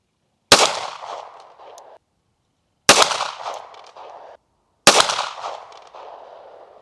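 A pistol is test fired outdoors, three sharp, loud shots spaced about two seconds apart, each followed by a short ringing decay before falling silent.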